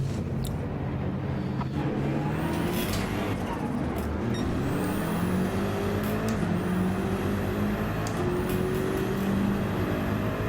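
A race car in Gran Turismo 7 drives into the pits, with a steady engine hum and shifting pitch as it slows, a few short sharp clicks and sweeping whines scattered through, at moderate level.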